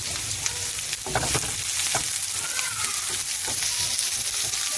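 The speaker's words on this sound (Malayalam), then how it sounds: "ഇനി നമുക്കിതൊന്ന് വഴറ്റിയെടുക്കാം" Onions with curry leaves sautéing in a pan for mushroom thoran, a loud steady sizzle with close scraping stir strokes and occasional sharp crackles, continuous throughout with no voices.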